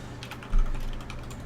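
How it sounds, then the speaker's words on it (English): Computer keyboard typing picked up over a voice call during a game session, a quick patter of close key clicks with one heavier thump partway through. "so we don't hear Italian typing constantly"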